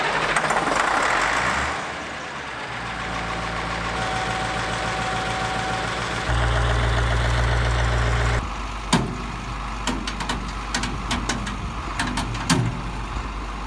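An empty semi truck backs up on slippery ground, its engine droning and idling loudly while wheels hunt for traction, with sharp clunks and rattles breaking in during the second half.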